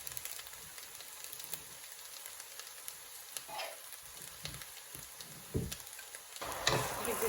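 Mutton and rice fry in a pot on high heat with a faint, continuous sizzle while a spoon scrapes and stirs in scattered soft knocks, growing louder toward the end.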